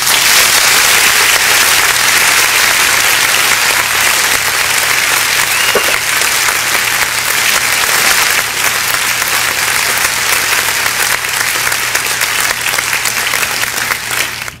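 A church congregation applauds, producing dense, loud, sustained clapping from many hands that fills the room without a break, with a low steady hum beneath.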